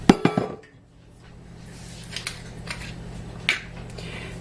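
An All-American pressure canner being oiled gives a quick cluster of close metallic clanks at the start, then a few scattered lighter clicks and knocks against a quiet background.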